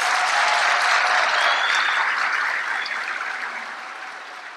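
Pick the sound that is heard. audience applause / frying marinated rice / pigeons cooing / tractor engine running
audience applause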